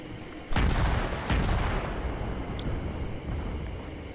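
Warship guns booming in World of Warships, two heavy blasts in quick succession followed by a long rumbling decay, moderately distant and without talk.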